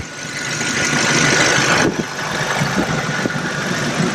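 A 2018 VW Tiguan direct-injected turbocharged engine idles steadily at close range, a smooth continuous hum with a few faint clicks and knocks as it runs.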